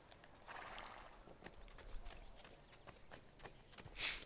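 Horse hooves clip-clop steadily at a moderate distance in the Assassin's Creed Ezio Collection game, a faint, even rhythm of soft thuds against low ambient noise, with a brighter burst near the end.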